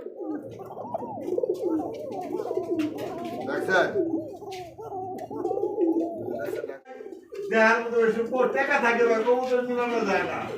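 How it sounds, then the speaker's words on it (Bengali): Fancy pigeons, including kokka, nun, Bombay, lahori, satin and racer breeds, coo and gurgle continuously in a loft or market, with people's voices mixed in among the close, dense calls. "আচ্ছা কোকা কবুতর"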